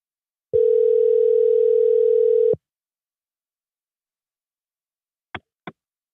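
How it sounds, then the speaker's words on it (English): A telephone call sounds a single steady ringback tone for about two seconds, then falls silent before two short, sharp clicks. "Let me see if I can get her on the phone."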